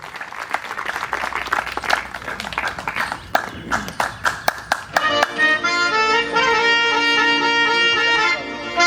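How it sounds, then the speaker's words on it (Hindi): Audience members at the Murthal Mahotsav cultural program in Haryana give scattered, uneven claps that grow sparser, then live music with sustained tones takes over and fills the rest. "जोरदार तालियों से"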